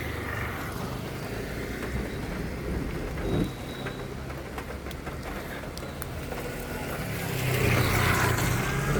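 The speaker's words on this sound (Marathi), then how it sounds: "पाऊस पण चालू आहे" Steady rain falling outside during a monsoon downpour, a dense continuous hiss with occasional low rumbles and passing car noise, growing louder near the end, no speech over it.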